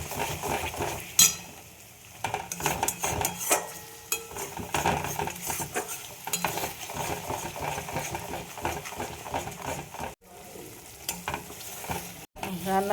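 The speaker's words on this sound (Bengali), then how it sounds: "এবার এটাকে ভাজা ভাজা করে দিতে হবে।" Banana peel paste is stir-fried in a pan: a lively sizzle runs throughout, punctuated by repeated scraping and clinking from a metal spoon, with a couple of brief pauses near the end.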